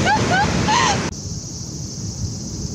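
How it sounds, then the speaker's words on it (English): Ocean surf washes steadily on the shore at Higashi Kaihin seaside park in Japan, a broad continuous rush with some faint whistling tones at the start. "We're still here by the ocean."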